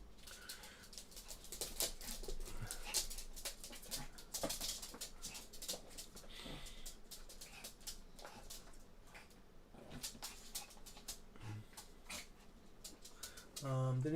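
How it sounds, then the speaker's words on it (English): A dog whimpers and yaps indoors in short scattered bursts over steady background clatter, with a person talking nearby at times. "You're gonna start barking in here, aren't you?"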